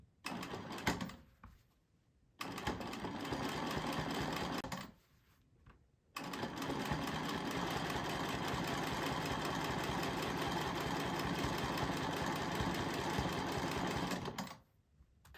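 A sewing machine stitches a line around an inner circle on a mandala quilt piece, running in two short bursts and then one long steady whirring run of about eight seconds, close and even.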